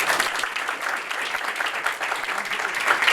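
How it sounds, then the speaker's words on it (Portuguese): Dense, sustained applause from an audience at an evening award ceremony honoring Dr. Paulo, steady and fairly loud throughout with no break. "uma grande salva de palmas"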